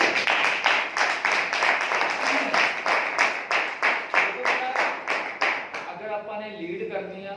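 An audience claps in steady, rapid rhythm, a dense close burst of hand claps lasting several seconds before tapering off, with voices murmuring as it fades.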